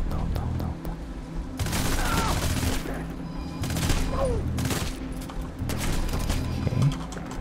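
Rapid bursts of gunfire from the violent shooter game Hatred, repeated volleys with brief gaps, loud and close, with faint voices now and then underneath.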